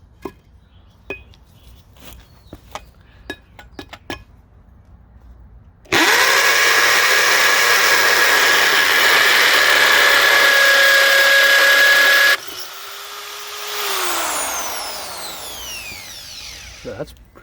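A Chicago Electric 1/2-inch hammer drill in hammer mode bores a masonry bit through 2-inch cinder block, a loud steady hammering whine of about six seconds after a few faint clicks, then a lower motor hum winding down.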